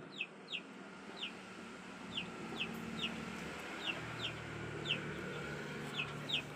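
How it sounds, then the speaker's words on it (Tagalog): Chickens cluck in short, sharp calls repeated at a steady pace, moderately distant over a constant low background hum. "Ingay pa ng manok dito."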